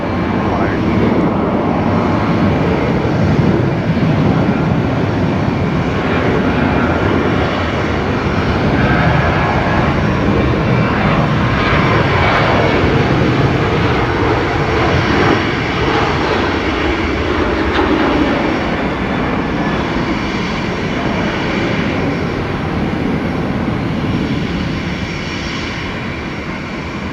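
A Qantas Boeing 737 jet lands on runway 01 right at Brisbane Airport, its engine roar a loud, steady, broad rumble that holds for nearly half a minute before easing slightly at the end.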